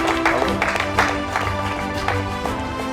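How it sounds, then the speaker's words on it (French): Audience at the Grizzly Awards 2022 ceremony applauding Gaëtan, a dense, steady patter of clapping hands throughout, with a sustained tonal music bed underneath. "on applaudit Gaëtan."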